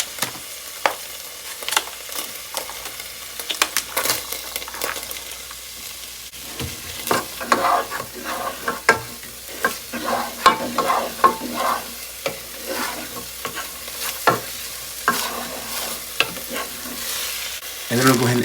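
Diced yellow onion sizzles in a frying pan in a tiny home kitchen, with repeated scraping stirs clicking against the pan over a low, steady fry.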